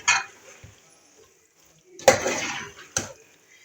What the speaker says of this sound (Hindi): इसको अब हम 1 से 2 मिनट तक इसी तरह बुनाई कर लेंगे इसकी